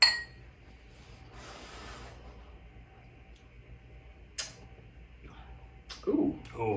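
Glasses of Scotch ale clink together in a toast, two light, bright taps a second or so apart against a quiet room background, with faint voices nearby.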